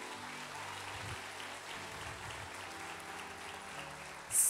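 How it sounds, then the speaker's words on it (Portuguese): Congregation applauding during a church sermon, a steady diffuse wash of clapping that stays moderately loud throughout, with a brief louder burst at the very end. "Aplaude o teu Deus"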